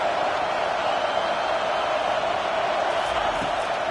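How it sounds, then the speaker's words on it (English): A loud, steady roar rises from a championship football stadium crowd backing its defense on third down, filling the whole few seconds without a break. "decibels rising as the crowd gets behind this defense on third down"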